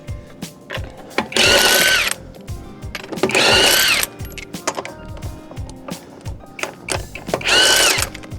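A power tool runs loose the wheel lug nuts on a Nissan Altima in three loud, close bursts of about a second each, with metallic clanks and handling noise in the short gaps between them.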